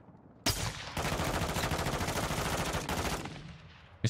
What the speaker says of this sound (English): Missed the most easy shot of all.